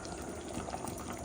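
Green cashew chicken curry boiling in a pot, a dense bubbling simmer heard up close and continuous, with no voices.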